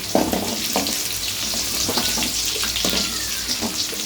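Curry leaves dropped into hot oil with garlic for tempering a bitter gourd tamarind curry, a steady close sizzle with crackling bursts and a few stirring clinks.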